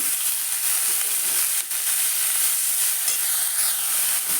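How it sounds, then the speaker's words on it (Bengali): Chopped cabbage tossed into a hot pan for a Bengali mixed vegetable dish, giving a loud continuous hissing sizzle with a few soft stirring scrapes, no voices. "এবার এর মধ্যে দিয়ে দেব বাঁধাকপি কুচিটা দিয়ে এর সঙ্গে ভালো করে নাড়িয়ে নেব"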